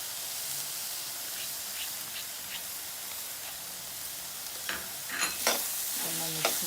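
Chili powder, turmeric and spices being stirred in a hot pan for paneer butter masala, giving a steady frying hiss with light scraping and a few sharper spatula clicks near the end.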